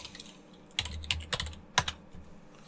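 Someone types the lsmod command on a computer keyboard: a short run of distinct key clicks, a few sharper strikes standing out, close and alone over a quiet room.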